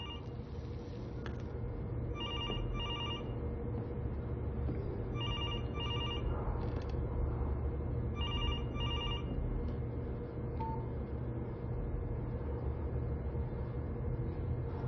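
A telephone rings in a movie scene, repeating in evenly spaced electronic trill bursts about every three seconds over a steady low hum, with no speech.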